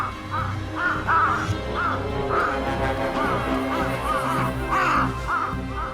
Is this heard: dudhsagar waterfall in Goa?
no